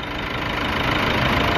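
A car engine running under an open bonnet, a loud, steady, close idle with a constant broadband drone and a faint rhythmic knock throughout.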